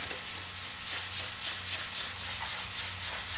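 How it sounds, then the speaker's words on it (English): Steady, light scratchy rubbing of 400-grit sandpaper worked back and forth over primer in even strokes, close and continuous with no voices. "just a light sanding."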